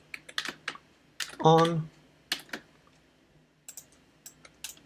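Code typed on a computer keyboard, bursts of quick clicking keystrokes in short runs with pauses, fairly close, alongside brief speech.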